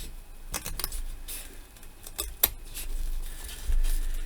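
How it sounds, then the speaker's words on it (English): Scissors snipping through a Little Golden Book junk journal cover, a few separate close crisp cuts scattered across a quiet tabletop background. "So I'm just gonna cut this."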